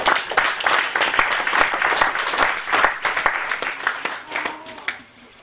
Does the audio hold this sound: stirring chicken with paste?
no